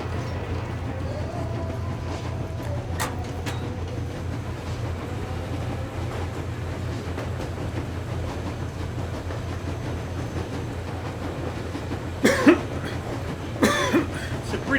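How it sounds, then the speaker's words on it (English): A train in the video game Metro Exodus rumbles low and steady throughout, a constant heavy drone with a faint clatter, interrupted near the end by a couple of close coughs. "It's a pretty cool train, I must say."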